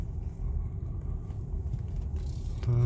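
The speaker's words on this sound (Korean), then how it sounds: "넘었으니까 악셀 밟아주고 이 회전 교차로 따라서" A car accelerates steadily through a roundabout during driving practice. Its low engine rumble holds even and close, with no talk over it.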